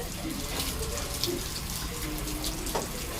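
Water running steadily from a tap during ablution in a mosque, a continuous close splashing flow with no talk over it.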